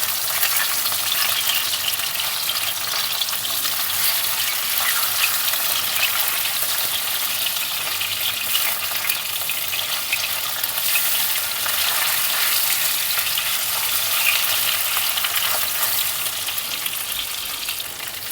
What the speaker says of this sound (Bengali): এবার একটা পিঠ ভাজা হয়ে গেছে আমি উল্টে দিচ্ছি অন্য পিঠ ভাজার জন্য